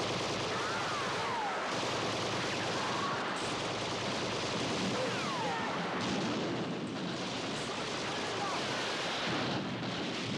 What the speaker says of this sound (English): Crater guns fire. Crater guns open fire.